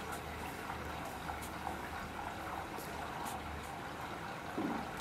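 Samsung Ecobubble 8kg front-load washing machine filling with water at the start of a cycle, a soft, steady rushing hiss with a low hum underneath, heard up close and continuous.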